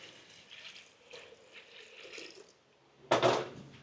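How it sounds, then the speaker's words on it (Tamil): Water is poured into a cooking pot holding lentils and chopped vegetables for a curry, giving a soft trickle before a short, louder splash near the end, close and alone. "நமக்கு எவ்வளோ குழம்பு வேணுமோ அந்த அளவுக்கு தண்ணி"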